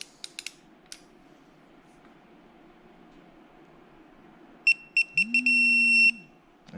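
Torque wrench on a 2009 Hemi 1500 long block build: a few short electronic beeps, then a solid steady tone once the set torque is reached, loud and close over a faint background hum.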